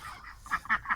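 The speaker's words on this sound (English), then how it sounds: "The ducks are the ones that do the quack quack quack, and the boys do that quack quack quack quack." Ducks and drakes quack in short, close bursts, three or four nasal calls in quick succession, fairly loud and alone.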